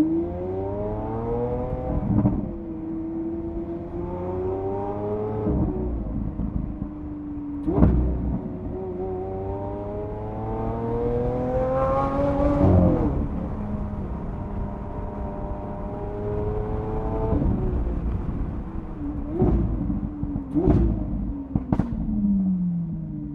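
A Lamborghini Aventador 50th anniversary edition drives hard, its engine rising and falling through repeated loud revving pulls and gear changes, with sharp exhaust pops and cracks between them, close and dominant over about twenty seconds.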